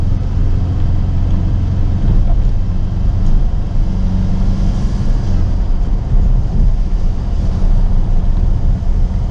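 A vehicle drives down a rough road with steady low engine rumble and broadband road and wind noise throughout, constant and loud, no talking.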